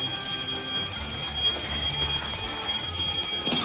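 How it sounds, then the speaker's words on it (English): An alarm bell ringing continuously at close range, a steady loud metallic tone holding throughout with no pauses, heard alone without talk. "you need to make sure at least one alarm is ringing by the end of the challenge"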